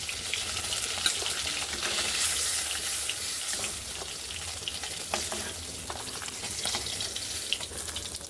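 Fish pieces frying in oil in a pan, a dense continuous sizzle with some watery crackle, steady and close throughout.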